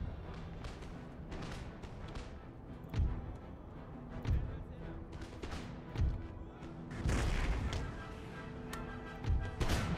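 Artillery batteries of 6-pounder cannons fire in Empire: Total War, several booming shots spaced irregularly over a continuous roar of battle noise, with a denser burst of firing near the end.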